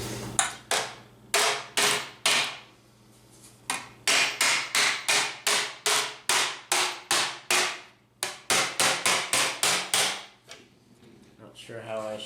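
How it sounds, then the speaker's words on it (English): Hammer blows on a slapper disc shaping a sheet metal patch panel, loud sharp metallic strikes in rapid rhythmic bursts with short pauses between runs, close up and alone. "get some practice just with a hammer and a slapper disc"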